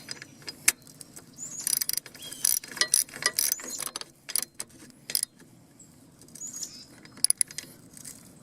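A hand ratchet tightens a bolt in a series of close, crisp clicking bursts with brief pauses between strokes; no one speaks.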